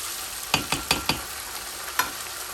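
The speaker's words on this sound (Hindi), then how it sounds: "चिकन को हमें अच्छी तरह फ्राई करना है।" Chicken frying in a pot for chicken pulao, a soft steady sizzle broken by several sharp clinks of a spoon stirring against the pan, close and without voices.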